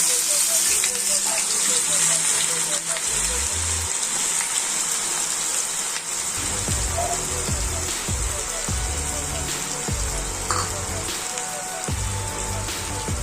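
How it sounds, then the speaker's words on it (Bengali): Chopped onions tipped into hot mustard oil in a frying pan, giving a loud, steady sizzle and gush of frying that fills the kitchen, with a voice talking over it. "আমার তেল গরম হয়ে গেছে। এবার আমি পেঁয়াজগুলো ছেড়ে দিচ্ছি।"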